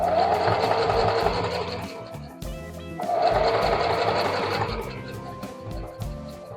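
Sewing machine stitching fabric in two runs, a steady rhythmic mechanical whir with a short pause between bursts and occasional clicks.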